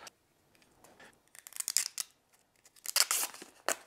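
Blue protective film peels off a clear plate for a Veritas router table for compact routers, giving close, crackling, tearing bursts that come in uneven spurts.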